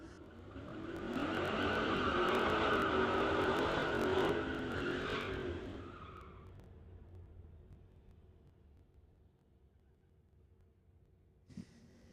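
Outlaw class drag race cars at Mission Raceway, a loud roaring run that builds, holds for a few seconds, then fades away into the distance, leaving faint background noise and a small knock near the end.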